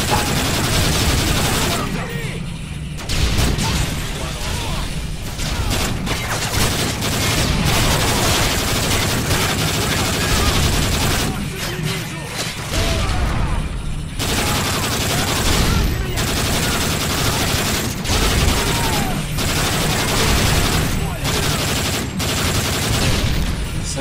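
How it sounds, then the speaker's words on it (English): Rapid automatic gunfire from a sentry gun in Call of Duty: Modern Warfare 3 Spec Ops survival mode, dense and loud, mixed with other battle noise and explosions and a voice talking over it throughout. "Sentry gun just destroy that stuff."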